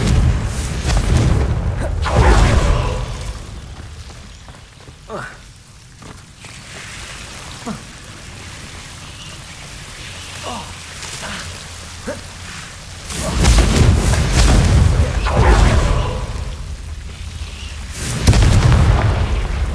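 A Confringo blasting spell in the video game Hogwarts Legacy sets off heavy rumbling booms in a dark herbology corridor. Several loud, deep bursts rise and fade over a constant low roar.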